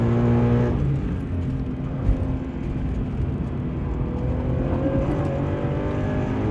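Toyota GT86 coupe pulling through track corners, its engine droning steadily from inside the cabin with a gear change early on, no voices over it.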